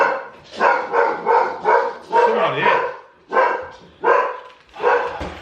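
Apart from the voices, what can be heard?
dogs barking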